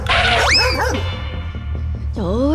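A dog gives short, high yips and a whining whimper over a steady low hum, close and fairly loud.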